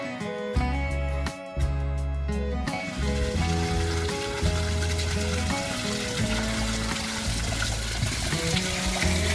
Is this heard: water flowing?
yes